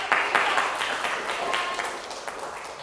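Students in a classroom give a short round of applause, a dense patter of hand claps with a few sharper individual claps standing out, continuing evenly throughout.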